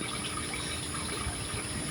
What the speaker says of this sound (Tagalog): i-drain yung tubig